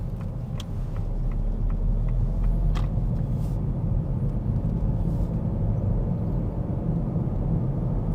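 A car being driven on a road near a roundabout, its steady low engine and road rumble continuous and fairly close, with faint ticking and no talk.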